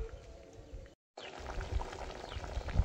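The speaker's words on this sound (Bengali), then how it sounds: "এবার তরকারিটা ভালো করে ফুটিয়ে নেব।" Shol fish kalia curry bubbles and simmers in a pan, a dense close sizzling boil that cuts out briefly and then returns steadily with occasional pops, no voices over it.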